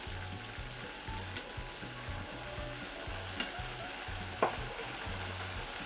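A burger patty fries on a greasy griddle at Dyer's in Memphis, giving a steady, close sizzle with a low rhythmic scraping underneath and a couple of sharp clinks near the end.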